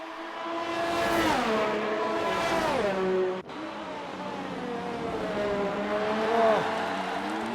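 Ferrari race car lapping Monza in a racing game, engine screaming through rising gear sweeps with a sharp lift-off cut near the middle, then steady high revs, close and loud.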